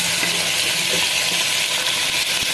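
Mutton fries in mustard oil in a pan, giving a loud, steady sizzle with faint stirring clicks and no voices.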